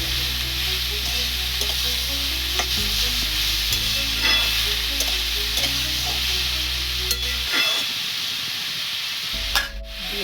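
Bottle gourd and mung dal curry fries and is stirred in a pan, a steady broad sizzle with scraping stirs throughout, loud and close, briefly dropping lower near the end.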